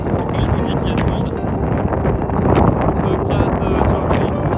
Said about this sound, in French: il y a du vent, je pense que ça s'entend